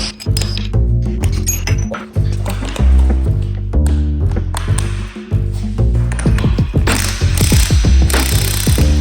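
Parts being bolted onto the suspension of a DW86 extreme drift car during a rebuild, with dense, loud ratchet clicking and clinking metal close up, layered over continuous background music.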